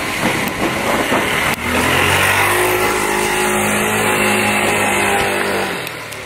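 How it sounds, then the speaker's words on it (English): Loud motorcycle engine roaring close by, a sustained rumbling drone that swells and holds for several seconds before easing off, with no talking. "It's a loud motorcycle."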